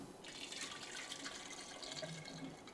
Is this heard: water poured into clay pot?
yes